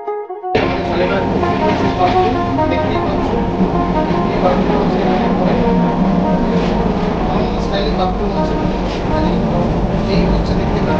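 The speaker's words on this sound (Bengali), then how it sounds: "এই মুহূর্তে ট্রেন স্পিড করে নিয়েছে, ট্রেন জার্নি শুরু করে দিয়েছে" A train runs on rails at speed, heard from inside an AC coach: a loud, steady rumble and roar with faint rhythmic rattling that continues throughout, close and enveloping.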